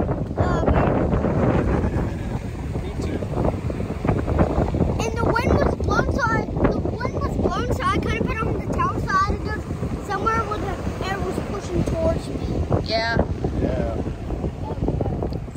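Strong wind blows on a beach, roaring across the microphone in steady heavy gusts for the whole stretch, while voices talk underneath.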